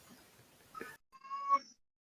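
A pet cat meows indoors, one short chirp followed after a pause by a clear, drawn-out meow, close and fairly soft against a quiet room.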